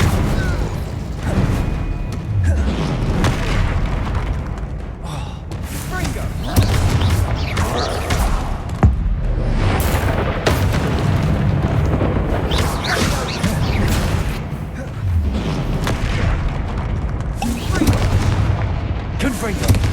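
Repeated booming spell blasts from Bombarda and Confringo in Hogwarts Legacy, heavy explosive impacts recurring throughout a busy fantasy battle, with a voice casting spells over the din.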